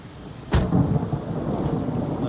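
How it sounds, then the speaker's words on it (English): A thunderstorm rumbles as a sudden crack of thunder breaks over steady rain, then rolls on in a long, deep, loud rumble. "nice little thunder."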